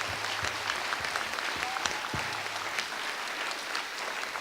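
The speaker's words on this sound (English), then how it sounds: "I just think we owe him a big round of applause." Audience at an awards banquet applauding, a full steady round of clapping from many people that holds at an even level from start to finish.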